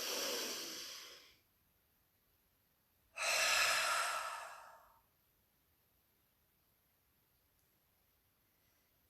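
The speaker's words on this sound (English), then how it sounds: "continue breathing in through the nose and out through the nose" A deep breath during guided meditation, heard alone in a quiet room: a long, airy inhale, a pause of silence, then a fuller, breathy exhale, both close and soft.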